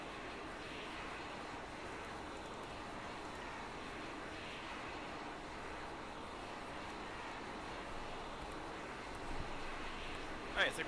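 A video game aircraft descending to land, a steady droning engine roar that holds evenly throughout at moderate distance, with faint voices over it.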